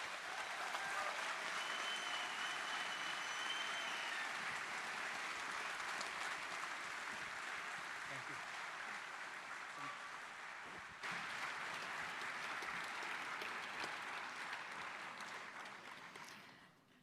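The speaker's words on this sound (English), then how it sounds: "Let's give Kyle the Culture Slayer another round of applause." A large audience applauds steadily after a speech, a dense, even wash of clapping that holds for the whole stretch and fades slightly at the very end.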